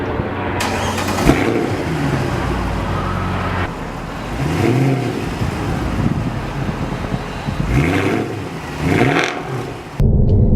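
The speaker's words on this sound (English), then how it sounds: "the 4 AMG exhaust pipes, which sound absolutely amazing. They have a really nice grumble to them." A deep V8 exhaust from a Mercedes C63 AMG's 6.3-litre engine and four AMG exhaust pipes rumbles and revs in several loud bursts, rising and falling close by, with no talking.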